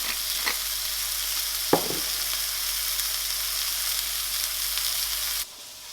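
Big Mac burger filling, seasoned with salt and pepper, fries in a pan with a steady, close broadband sizzle and a couple of brief scraping stirs, cutting off abruptly near the end.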